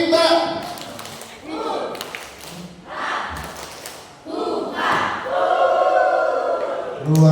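A group of people performs the tepuk rimba clapping chant together, with rhythmic chanted voices and bursts of claps and thumps in uneven phrases, fairly close and moderately loud.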